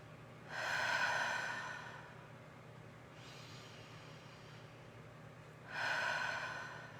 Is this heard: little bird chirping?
no